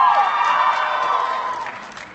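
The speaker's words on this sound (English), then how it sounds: "I wasn't hoping you'd cheer." Convention audience cheering in a hall: loud whoops and shouts from many voices that slowly fade, with clapping mixed in.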